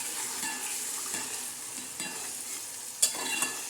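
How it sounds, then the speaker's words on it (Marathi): Ground green masala paste sautéing in hot oil in a kadhai for a karadai leafy greens dish, a steady close sizzle with a few stirring scrapes and one sharper clink near the end. "हा मसाला जो आपण वाटण वाटलं होतं हिरण्याच्याचं ते ते असं टाकणार आणि तेलात मस्त असं परतून घेणार"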